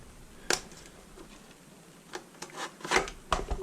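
An AR10 rifle's magazine is ejected while the bolt stays locked open, giving a few sharp metallic clicks and a scraping slide spaced across a quiet moment, close and fairly faint.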